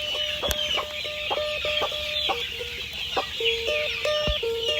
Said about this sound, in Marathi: ही आली आता कोंबडी परत